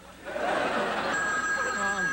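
A telephone bell rings in a home, a bright steady electronic tone rising clearly after the first second over background voices and room noise.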